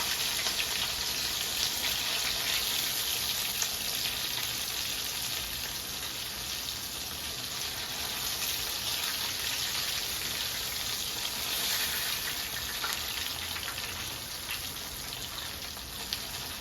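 Bangamary fish frying in a pan of oil, giving a steady, even hiss and crackle that runs throughout, fairly close and with no voices over it.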